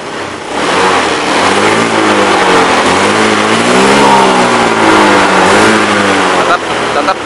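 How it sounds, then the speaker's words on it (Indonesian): A fuel-injected motorcycle with a throttle fault that will not take full throttle gives a loud, continuous engine note rising and falling as the throttle is worked, then sagging as it dies out near the end. "Nah, digas malah mati, gas mentok."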